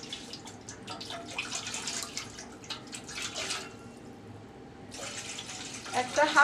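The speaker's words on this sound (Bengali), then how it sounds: "হাফ লিটার পর্যন্ত পানি দিলাম" Water pours from a one-litre bottle into a cooking pot, a splashing, gurgling stream that pauses briefly and then resumes more loudly.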